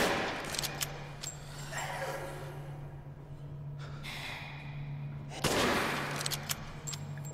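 Sniper rifle shots ring out in Resident Evil Village, with a sharp report early on and a louder one near the end over a steady low hum, each followed by a fading tail.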